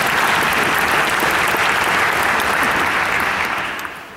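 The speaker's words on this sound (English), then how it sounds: "So give yourselves a round of applause" Loud, sustained applause from an audience after an orchestra and choir summer music camp concert at the University of Maryland, steady clapping for about four seconds before tapering off at the end.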